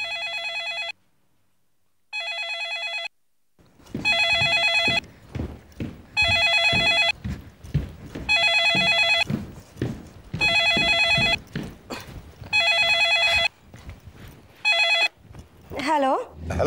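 An old-style telephone bell rings in repeated bursts, each about a second long with short gaps between them, loud and close indoors, while footsteps and other movement are heard between the rings.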